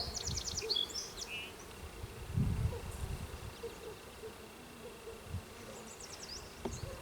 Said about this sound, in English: the bees are nice and calm